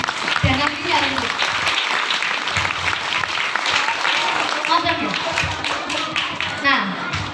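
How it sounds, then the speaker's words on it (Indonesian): An audience at a Maulid Nabi religious gathering claps and applauds steadily throughout, a dense sustained wash of hands with children's voices and chatter mixed in. "Tepuk tangan dong buat sahabat Nabi dan Nabinya itu."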